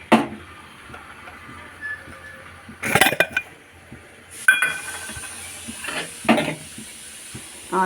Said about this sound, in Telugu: స్టవ్ వెలిగించి ఏదైనా కుక్కర్ కానీ ఏదైనా బాండీ కానీ పెట్టుకోండి